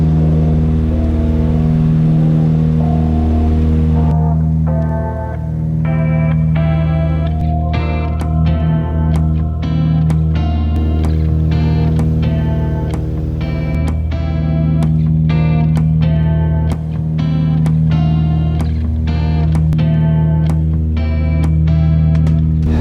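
Steady droning propeller and engine noise fills the cabin of a Britten-Norman BN2 Islander in flight with Hebridean Air, a loud constant hum with layered tones and occasional faint clicks.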